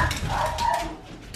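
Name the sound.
American Bully dog Coco barking in the house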